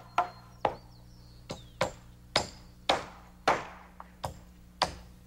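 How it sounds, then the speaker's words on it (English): Nails are hammered through a rafter into a ceiling joist during roof framing, about ten sharp ringing hammer blows in an uneven rhythm, close and clear over a low steady hum. "nails his end to a ceiling joist and the same on the other side"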